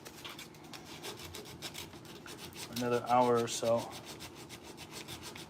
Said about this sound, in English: I am sanding the mane on this rocking horse that I'm making